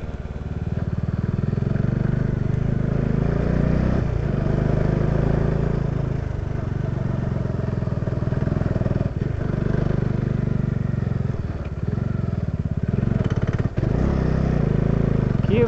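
A motorcycle rides a rough, landslide-damaged mountain road near Bhaktapur, its engine a loud continuous drone close up, with occasional bumps and clatter as it rolls over uneven ground.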